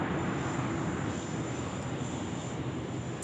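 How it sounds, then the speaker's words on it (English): A Qantas Boeing 787 Dreamliner at Sydney Airport gives a steady broadband jet roar at moderate distance. A thin high whine sits over it and no voices are heard. "Qantas 75 now, the Boeing 787 Dreamliner."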